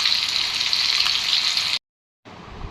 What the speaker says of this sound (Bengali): তো এখানে মাছ ভাজা বসিয়ে দিয়েছি